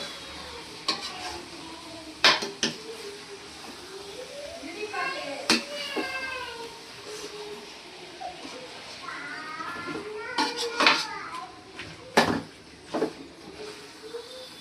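Pepper chicken masala stirred in a sizzling pan at home, with a steady fry hiss and repeated scraping strokes of the spoon close up, while people, including a child, talk in the background.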